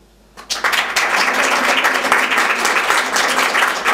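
A group applauds Paul after a movement exercise. Dense, steady clapping bursts in loudly after a brief quiet moment and carries on evenly to the end, with no talking over it.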